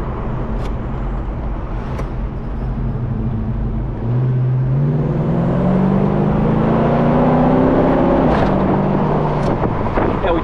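A 1969 Chevelle SS convertible with a big-block V8 and cold-air hood drives past, its engine note steady at first, then rising through the gears as it accelerates, loud and close with some wind rush.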